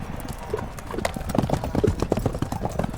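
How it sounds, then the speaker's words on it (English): Racehorses gallop out of the starting gates at a mile-long race track, a rapid, uneven clatter of hooves that builds in loudness over a few seconds. "the horses shot out of the gates"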